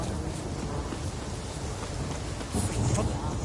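Rain falling in The Witcher 3: Wild Hunt, a steady, even hiss of downpour with a faint low rumble like distant thunder, growing slightly louder near the end, with no talk.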